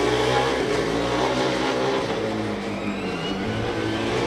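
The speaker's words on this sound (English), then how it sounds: "It sounds like the car from Karlsruhe may be having some shifting issues." A Karlsruhe Formula Student combustion race car in an endurance event drones loudly and steadily, its engine note dipping briefly mid-clip as if shifting gear, then pulling on again.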